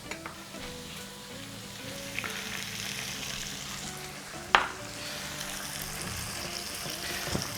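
Fermented black beans stir-fried with ginger and scallion in a hot wok, giving a steady close sizzle and light scraping, with one sharp clink partway through.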